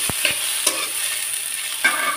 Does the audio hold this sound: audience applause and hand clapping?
no